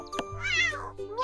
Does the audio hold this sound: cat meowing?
yes